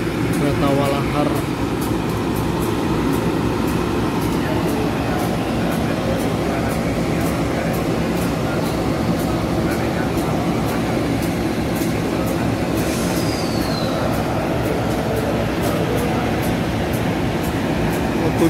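Walahar commuter train from Cikarang to Purwakarta with a steady, continuous rumble and air-conditioning hum throughout, plus rhythmic faint clicks and a brief squeal near the end, with some talk in the background.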